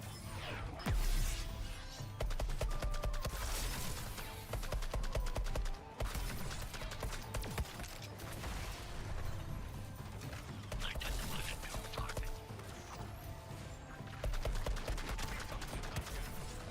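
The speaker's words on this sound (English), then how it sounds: "I like the assault rifle though." Assault rifle gunfire during combat in the Suicide Squad: Kill the Justice League video game, with repeated bursts of rapid shots over a dense, loud layer of game music and effects.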